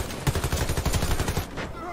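Automatic gunfire in the Warface shooter game on PS4 rattles out in rapid, loud bursts of closely spaced shots, nearly continuous across the short stretch.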